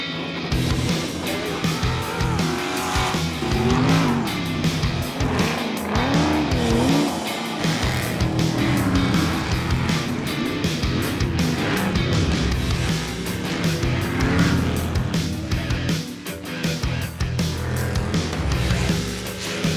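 A race car engine roars continuously at high revs during practice laps, with rising and falling pitch as it laps, tires squealing at times, loud and close throughout.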